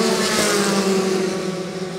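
Formula 4 race cars at speed through a complex opening series of corners, their engines a loud, steady high-pitched drone that holds across the whole moment.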